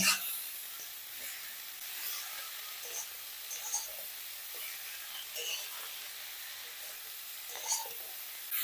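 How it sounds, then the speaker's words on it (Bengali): Drumstick flowers and potatoes sizzle softly in a frying pan while being stirred, a steady faint hiss with occasional scraping clicks, close by and without talk. "সজনে ফুলটাকে আলুর সাথে ভালো করে নেড়ে নেব"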